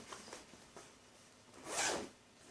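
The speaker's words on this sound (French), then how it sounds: "Et une fermeture éclair." The zipper on a Solensa dance bag is pulled open in one quick, close rasping stroke, preceded by a few light fabric rustles in a quiet room.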